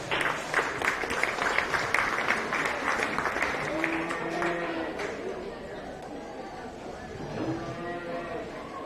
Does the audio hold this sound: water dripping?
no